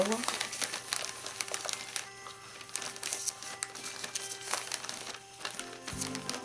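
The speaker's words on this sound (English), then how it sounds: "we are just going to wrap the gift, take it by a half, fold the other half on top, like so" Wrapping paper is folded in half around a Christmas gift, producing close crinkling and crumpling rustles throughout, with a soft thump at the end; a voice speaks over parts of it.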